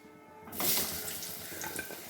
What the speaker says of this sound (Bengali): এই তেলেই আমি আলুগুলো ভেজে নেব